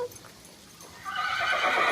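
A horse at a stable lets out a loud, close whinny that swells in the second half after a quieter stretch of low background noise.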